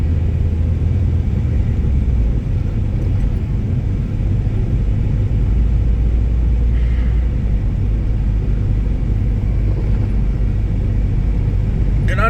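A car drives through Ramberg, South Africa, its engine and road noise forming a loud, steady low rumble heard close up throughout, with no one speaking.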